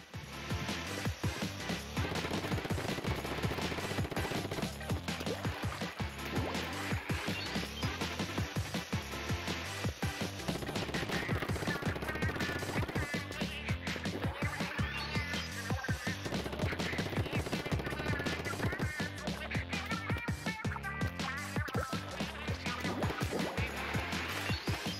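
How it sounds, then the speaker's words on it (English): A Splatling gun firing in the video game Splatoon 2, giving dense, continuous rapid-fire bursts layered over busy game music and effects throughout, steady and fairly faint. "I'm using the heavy the Gatling gun. Or the Splatling gun."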